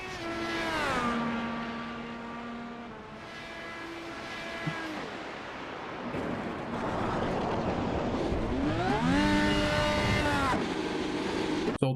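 Indycar engines at the Circuit of the Americas in iRacing: loud, high revving whine with pitch sweeping down on braking and climbing again on acceleration, sustained throughout with gear changes audible.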